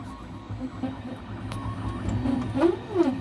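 MakerBot 3D printer running, a low whirring motor drone with stepper tones that rise and fall in short sweeps, growing slightly busier toward the end.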